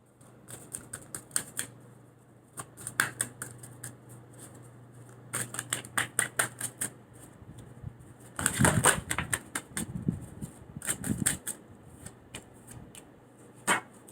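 Tarot cards shuffled by hand for a Hindi monthly pick-a-card reading, giving bursts of crisp riffling and flicking clatter, close and fairly quiet, with a denser flurry near the middle and no talking.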